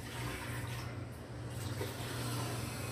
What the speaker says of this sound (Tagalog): So lagyan natin ng kunting tubig